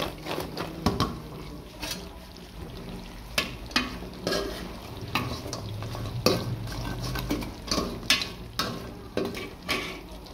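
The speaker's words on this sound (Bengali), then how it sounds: "এবার এর ভিতরে আমি মোড়ালিগুলো দিয়ে দিব, দিয়ে নাড়াচাড়া করে নিলেই রেডি হয়ে যাবে।" Crispy wheat-flour murali snacks are tossed in freshly made sugar syrup in a pan, with repeated spatula scrapes and knocks in an uneven rhythm over a soft sizzle, close by and without talk.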